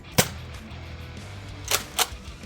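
A Nerf Rival SideSwipe blaster firing Adventure Force foam rounds: three sharp, close pops, one early and two in quick succession near the end, over a low background hum.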